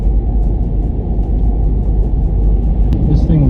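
A 2021 Ford Bronco Big Bend with manual cloth seats cruising back roads in a low gear, its engine giving a steady, loud low rumble throughout with no break.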